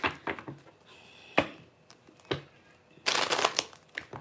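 A deck of tarot cards is shuffled in quick riffling bursts separated by brief pauses, ending in a longer dense flurry, close and fairly soft.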